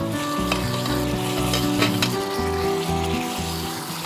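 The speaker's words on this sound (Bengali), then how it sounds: "এখন আমি এখানে আমার মাংসগুলো দিয়ে দিব।" Meat sizzling and frying in a pan for a lasagna with Bengali spices, a constant loud crackle with stirring scrapes, close up, over light background music.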